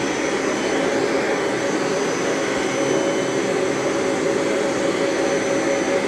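A vacuum cleaner runs in a room being cleaned, over bedsheets and chairs, giving a steady, unbroken whirring drone that stays loud and even throughout.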